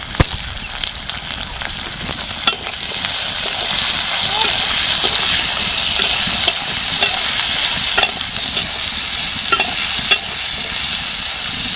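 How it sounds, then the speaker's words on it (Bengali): Two medium potatoes frying in a pan with a little turmeric and salt, a steady broad sizzle with occasional stirring clicks and scrapes, with some voice in the background. "মাঝারি সাইজের আমি দুটো আলু নিয়েছি এগুলো ভেজে নেব"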